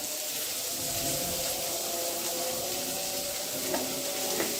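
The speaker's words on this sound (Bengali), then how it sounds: "পেঁয়াজ আর রসুনের কোয়াগুলো ভালোভাবে নেড়ে চড়ে নেব" Onion and garlic cloves stirred and fried in a pan, a steady close sizzle with faint scraping and a couple of light utensil taps, no talking.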